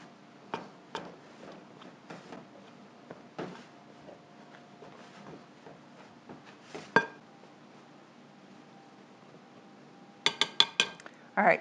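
A pastry blender cuts butter in a mixing bowl for banana and chocolate chip scone dough, giving scattered metallic clinks and scrapes against the bowl, with a quick cluster of sharper taps near the end.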